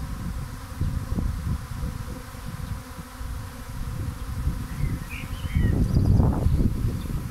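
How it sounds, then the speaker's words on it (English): A swarm of honeybees landing in a case fills the air with a dense, steady buzz, close and loud, swelling stronger near the end, with no talking. "skies are full of bees"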